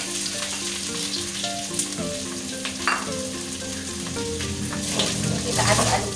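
Chicken pieces drop into cooked spice paste for garang asem and sizzle steadily in a hot pan. The frying is loud and continuous, with a brief rustle as the pieces are stirred.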